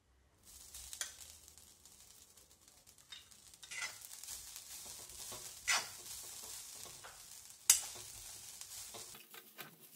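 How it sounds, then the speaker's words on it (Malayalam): Freshly grated coconut roasts in a hot pan with a soft, continuous sizzle, broken by several sharp scraping stirs of the spoon against the pan. The sounds are close and quiet, with no talk. "ഇതിലേക്ക് നമുക്ക് തേങ്ങ ചെരവേത് ചേർക്കാം."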